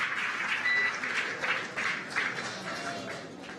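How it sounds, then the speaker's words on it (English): A crowd cheers and applauds for the SpaceX Crew 4 Dragon splashdown, a steady wash of clapping and cheering that swells in waves and holds at moderate volume. "Incredible view as the crowd goes wild for Crew 4."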